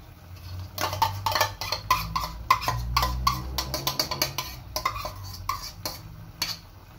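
A spoon stirs liver spread dissolved in water in a pan, with repeated clinks and scrapes of metal against the pan in a quick uneven rhythm and a low simmer beneath.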